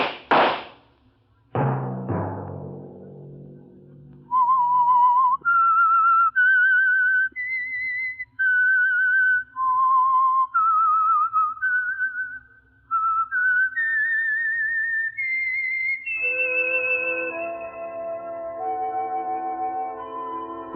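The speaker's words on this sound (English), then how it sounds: "Let that whistle be your signal" A single clear whistled melody from a 1950 radio drama rises and falls in sustained notes, alone and close, following a sharp opening thump.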